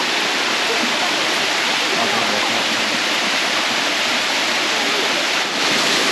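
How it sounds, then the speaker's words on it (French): A waterfall in Bali pours in a loud, continuous broadband rush that fills the whole scene without pause. "Elle est jolie cette cascade,"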